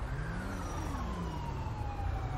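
A wailing ambulance siren in the video game GTA 5 sweeps steadily up and down, loud and continuous throughout, with a low engine-like rumble beneath it.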